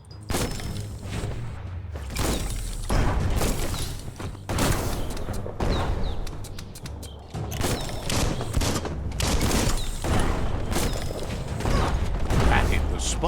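Bomb lobber weapon firing in the video game Biomutant, a run of thumping blasts and explosive booms with mechanical clanks in between, loud and repeated over steady game sound, with a voice talking over it.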